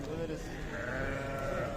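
Sheep and lambs bleat at a livestock market, wavering calls heard amid crowd murmur and people talking nearby.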